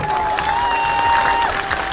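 Crowd applause for Chief Minister Rekha Gupta at a public outreach meeting in Mehrauli, a short burst of dense clapping and murmur heard at moderate distance with a faint tonal whine running through it.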